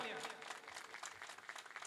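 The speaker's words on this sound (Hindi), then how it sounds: "प्रदीप जी लिए जोरदार तालियां" A crowd at an IT office inauguration claps loudly for kabaddi player Pradeep Narwal, a dense, sustained burst of applause with no gaps.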